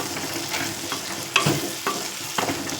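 Okra curry is stirred in a frying pan. A soft, steady sizzle runs throughout, broken by three or four close scraping strokes of the spoon near the end.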